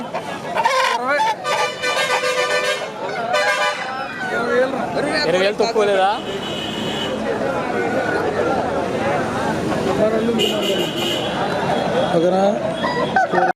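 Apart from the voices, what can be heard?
fighting roosters at a market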